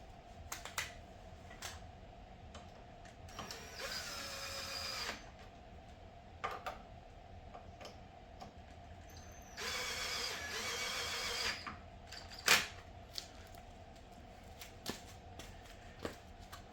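Small tool ratcheting on tiny bolts of a Movcan V30 dual-battery e-bike, two short bursts of quick clicking separated by quiet, with scattered faint taps and knocks around them.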